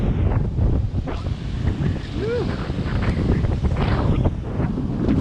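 Strong wind blows by the sea at a coastal shore fishing spot, buffeting the microphone in a constant loud roar with surf washing underneath.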